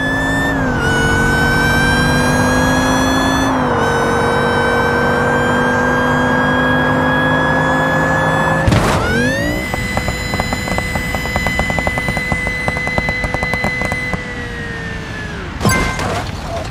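A Genesis Motors car in BeamNG.drive runs loud and steady, its engine holding a constant tone with small shifts in pitch. Two sharp impacts break in, one midway and one near the end.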